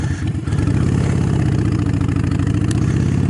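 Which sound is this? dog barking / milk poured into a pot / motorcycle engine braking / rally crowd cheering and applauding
motorcycle engine braking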